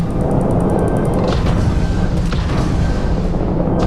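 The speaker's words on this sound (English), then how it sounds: "I wonder if that's what that explosion is." Missiles explode in the video game Starfield as a steady, loud roar of rumbling booms and cracking blasts with no break, close and dense, while a few sharp impacts punctuate the noise.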